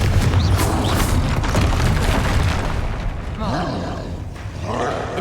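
A Confringo fire spell explodes in Hogwarts Legacy, one loud booming blast with roaring rumble over dense game action and music, followed by more spell bursts later.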